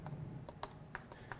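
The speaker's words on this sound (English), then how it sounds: "Now Slater has to type with one hand" Quiet keyboard typing done with one hand, a few distinct key clicks spaced irregularly over a faint background hum.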